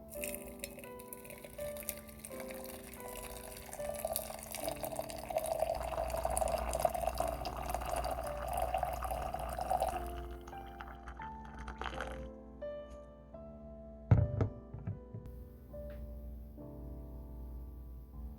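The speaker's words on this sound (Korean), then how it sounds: "그 후 95도로 끓인 물을 500g 부어줍니다." Hot water at 95°C is poured over loose TWG Grand Wedding tea leaves, a steady close trickle for about ten seconds. Softer glassy drips and clinks follow as the stream stops.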